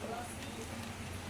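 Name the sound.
heavy rain falling outside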